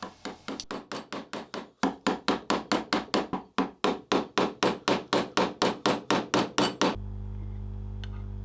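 A hammer strikes a small chisel cutting into wood for half lap dovetail joints on a photo frame, about twenty sharp, evenly spaced close knocks in a rapid steady rhythm, then quiet hum.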